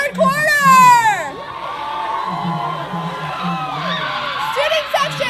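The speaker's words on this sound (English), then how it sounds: "Keep cheering on your Broncos." A student section crowd cheers at a basketball game, loud and close, with high shouts and whoops at first, then a sustained roar of voices under someone speaking over a PA.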